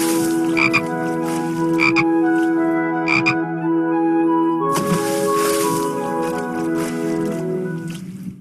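A frog croaks in a few short, bright bursts over a steady sustained tone, then gives a longer rasping croak run that fades out at the end, with no one talking.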